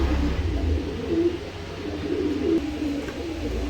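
Pigeons kept for sale coo steadily and close over a dense, busy background, with low murmuring in the mix.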